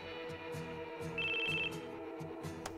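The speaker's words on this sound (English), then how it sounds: "I got a cell phone." Cell phone ringing in the video game Final Fantasy Crisis Core, a short electronic ringtone trill pulsing over quiet game music and ambience, fairly faint, with no talking.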